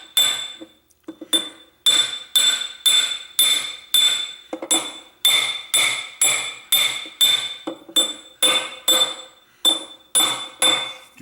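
A hammer drives a wrist pin bushing into place, with a long series of sharp metallic clinks struck at a steady rhythm, close and ringing, with no talking.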